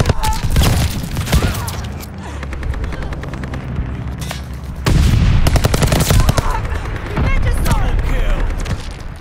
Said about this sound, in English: Friendly bombing run.